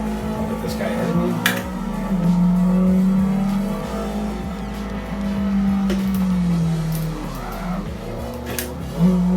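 Racing video game with assists turned off: a race car engine drones and revs steadily with rising and falling pitch, tires faintly squealing at moments, while someone talks over it throughout.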